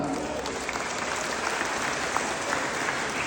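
Audience applause at a Christmas celebration in Tapanuli Tengah, 2024: a dense, steady wash of clapping from a large crowd that holds evenly at full loudness throughout.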